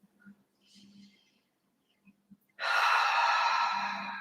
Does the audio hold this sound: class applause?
no